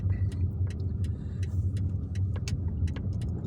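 A car rumbles steadily along the streets of Algiers with a low, constant engine and road drone, plus faint scattered ticks and clicks above it and no talking.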